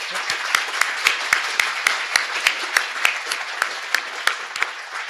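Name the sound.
audience applause for a panel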